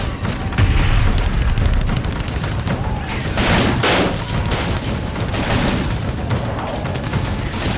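Dense gunfire and booms around a military post under attack by militants, with sustained volleys, heavy thuds and continuous loud crackle throughout, no speech.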